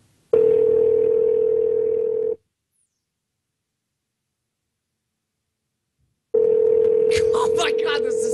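Outgoing-call ringback tone on a phone line, a steady loud tone lasting about two seconds, then silence, then a second burst of the same tone with clicks and chirps over it.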